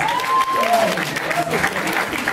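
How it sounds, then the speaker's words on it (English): An audience of seniors applauds during a hypnotist's stage show at an all-night party, with steady clapping and a few whistles running beneath the performer's continuing talk. "Give him a nice round of applause if you would, please."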